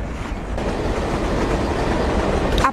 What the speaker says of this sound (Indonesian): Kereta ini salah satu kereta percontohan di perusahaan ayahku.